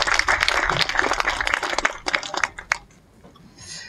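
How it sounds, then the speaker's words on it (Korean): A crowd at a literary museum opening ceremony in Geochang, South Korea, applauds loudly for about two seconds, then the clapping thins into scattered claps and fades to near quiet. "다시 한번 큰 박수 부탁드립니다"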